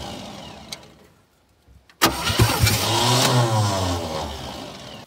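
A 1967 Chevy C-10 truck engine cranks on its starter after a quiet gap, then catches into a loud, steady mid-pitched running sound with rising revs, close and with no talk over it.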